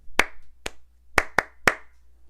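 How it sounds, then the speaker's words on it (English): Hands clapping a hockey-style sports chant rhythm, five sharp claps in an uneven pattern, two close together, loud and near with no talking. "All you got to do is clap your hands in the kind of, we all know that hockey sports kind of chant"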